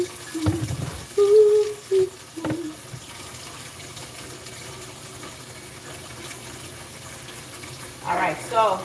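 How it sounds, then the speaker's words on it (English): Tap water runs steadily into a bowl meant for holding peeled potatoes, a soft continuous trickle under intermittent talk, with a brief clink and a louder splash near the end. "I put some water in this because when I peel the potato, you'll see I drop it in the water"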